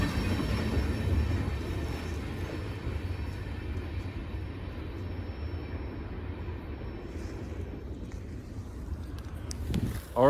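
A train rolling past on railroad tracks near a trackside spot, a continuous broad rumble and rush of wheels and cars that stays steady for ten seconds before easing, with a faint squeal near the end.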